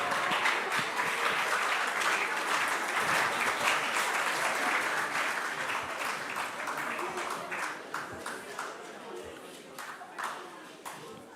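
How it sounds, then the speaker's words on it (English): An audience at a national investment quiz competition's quarter-final stage applauds all the schools, with loud, sustained clapping that slowly thins out toward the end. "Let's give it up for all schools."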